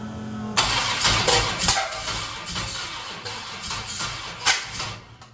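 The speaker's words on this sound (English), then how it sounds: "The starter makes all sorts of grinding noises." A car's starter motor grinds while trying to crank an engine that will not fire, giving a loud, uneven run of harsh mechanical bursts and rattling with no clear catch or idle.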